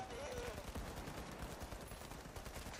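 Rapid gunfire in the video game The Finals, a dense stream of automatic shots at moderate level continuing throughout, with a person talking over it.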